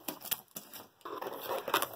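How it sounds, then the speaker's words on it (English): Small dice tumbling out of a packet of trading card energy cards, several quick clicks and rattles against a hard surface, close and fairly loud, followed by a busier clatter. "Looks like something fell out. Looks like it's dice."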